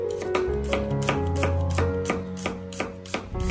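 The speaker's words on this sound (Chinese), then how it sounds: "接下来我们要准备一些大蒜，给它切成蒜片，" A kitchen knife slices peeled garlic cloves on a cutting board in quick, even taps, about three per second, close and crisp, over soft background music.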